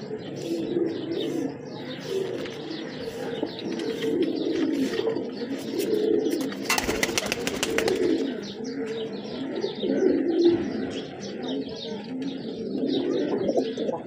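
Several high-flyer pigeons cooing in soft, low, rolling calls that overlap, with a brief burst of wing flapping midway and a steady murmur throughout.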